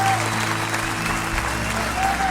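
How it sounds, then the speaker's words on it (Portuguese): Church congregation applauds during a Portuguese-language sermon, a continuous, loud wash of clapping with a low hum and murmured voices underneath, steady throughout. "uma salva de palmas a Jesus, onde você está aí."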